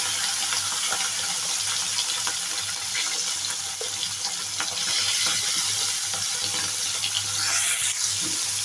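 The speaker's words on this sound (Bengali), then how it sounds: "এবার মাছগুলো আস্তে আস্তে ভেজে নেব।" Tengra fish frying slowly in oil in a home kitchen pan, a steady broadband sizzle holding at an even level throughout with faint scattered crackles and no voices.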